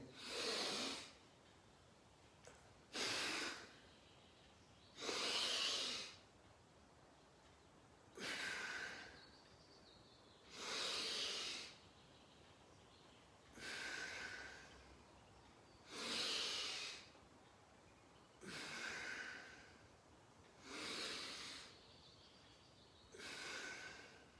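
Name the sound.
deep breathing during a yoga exercise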